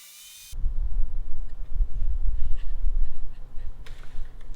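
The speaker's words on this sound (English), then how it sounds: "So I'll run them through at almost full width just to smooth out one side" Wooden pallet slats fed through a planer, a sudden loud low mechanical roar that holds steady and close for several seconds with faint higher whine above.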